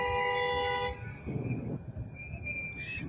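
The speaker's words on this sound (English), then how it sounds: "Is she the one honking? Yeah, she's the one honking." A vehicle horn blares in one long sustained tonal blast that cuts off after about a second, followed by rumbling traffic noise and a fainter higher tone later, with no speech.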